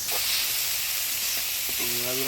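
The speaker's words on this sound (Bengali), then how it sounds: "চিংড়ি মাছগুলো ভাজে নিলাম, এবার নামিয়ে নিব।" Small river shrimp sizzle and fry in a pan with a steady, close hiss throughout, a few stirring clicks, and a faint voice near the end.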